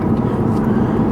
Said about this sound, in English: You can also hear the fantastic induction sound.